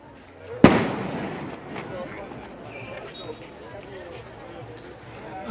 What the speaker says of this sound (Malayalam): തൃശൂർ പൂരം സാമ്പിൾ വെടിക്കെട്ട് ആരംഭിച്ചു